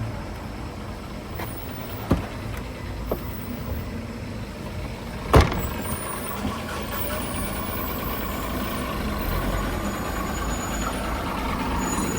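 A large truck rumbles past on a narrow mountain road on the way from Gangtok to Lachung, a steady low engine drone with a few sharp clanks and a brief loud knock midway, close by and persistent.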